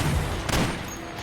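Burst of gunfire from the Metal Gear video game, aimed at Vamp: a dense, close spray of shots with a sharp crack near the middle, over a steady bed of game noise, no voices.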